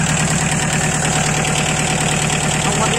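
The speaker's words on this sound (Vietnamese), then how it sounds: "Máy đang nổ đây các bác nhá. Máy nổ rất là êm." An engine idles smoothly and steadily on a used vehicle with a four-speed forward and four-speed reverse gearbox, a loud, close, even rumble with a fine regular pulse and no talk over it.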